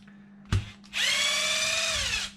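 A power drill spins briefly, then a loud sustained whine runs for over a second as it removes screws from the bottom plate of a Losi LMT RC monster truck, close up with no talking.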